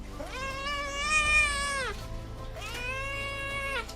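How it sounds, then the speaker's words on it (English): A Sphynx cat meowing twice, long drawn-out wailing meows, each lasting over a second, loud and close with nothing else over them. "Number 1. Sphynx cat."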